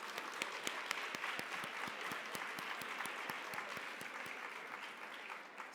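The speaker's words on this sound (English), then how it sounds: "Please join me in giving them a round of applause." An audience at a women's executive leadership conference claps for three panelists, a steady, soft roll of many hands with a few sharper distinct claps standing out, heard from a distance.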